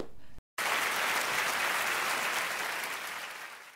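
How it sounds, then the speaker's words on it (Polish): Dense, steady applause from a group fills the moment after a short gap, sustained and close, slowly tapering toward the end with no voices over it. "Bijcie mi brawo."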